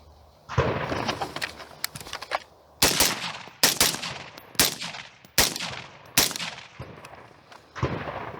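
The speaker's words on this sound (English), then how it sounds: "we'll shoot this a little bit more." Suppressed gunshots from a rifle fitted with a Dead Air Sandman silencer, seven sharp reports spaced about a second apart, each with a short trailing echo, fired outdoors at close range with no talk.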